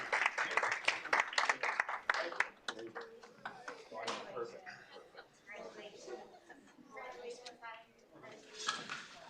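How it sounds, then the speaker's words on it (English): Applause for a chamber choir at a school board of education business meeting: a burst of clapping up front that thins into scattered claps, with voices talking and chuckling over it. "one more round of applause for the Chamber Choir"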